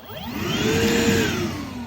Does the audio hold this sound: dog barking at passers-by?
no